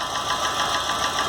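Close recording of an idling Chevrolet Corsa engine whose cylinder head knocks, giving a steady drone with a regular light tapping beat running through it, no talk.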